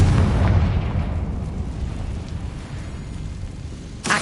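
Confringo spell explosion in Hogwarts Legacy: a loud, rumbling blast that decays slowly into a long roaring tail, with a sharp new burst right at the end.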